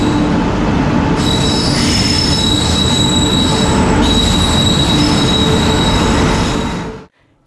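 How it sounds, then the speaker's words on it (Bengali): Nagercoil Express train pulling into a station, with loud continuous high-pitched wheel squeal over a steady rumble of rail cars for about seven seconds, ending abruptly. "নাগেরকোয়েল এক্সপ্রেস দেখতে পাচ্ছেন"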